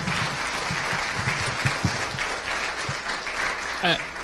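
An audience at an 'I Am An American' event in Des Moines keeps clapping steadily while a voice speaks over the applause, rising briefly near the end.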